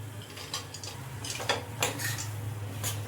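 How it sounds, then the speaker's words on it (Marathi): Cashews and almonds dropped into a pan of wheat-flour jaggery halwa, giving a few light clinks and taps against the pan over a steady low hum, with no talking. "आता मी इथे काजू बदाम टाकते"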